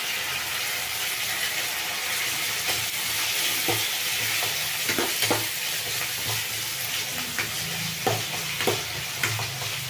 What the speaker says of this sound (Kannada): ಇದೆಲ್ಲ ಚೆಂದಾಗಿ ಫ್ರೈ ಆಗಬೇಕು ಎಣ್ಣೆನಲ್ಲಿ ಫ್ರೈ ಆಗಲಿ ಹೀಗೆ ಬಿಟ್ಬಿಡೋಣ ಮತ್ತು ತಿರುಗಿಸ್ತಾ ಇರಬೇಕು